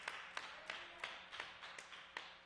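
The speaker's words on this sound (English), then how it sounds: "let's go ahead and clap our hands as she comes" Several people in a church congregation clap in a loose, uneven rhythm, about eight sharp claps over a couple of seconds, faint and somewhat distant.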